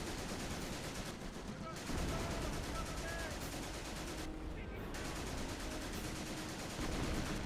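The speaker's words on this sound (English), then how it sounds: "We're firing the big artillery salvo in that direction." A big artillery salvo fires in a war video game as dense, continuous booming gunfire with repeated heavy bursts under a busy battle mix, loud and sustained throughout.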